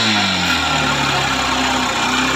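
A Honda Shine motorcycle engine runs steadily at idle, a loud, close, continuous low throb with no voices over it.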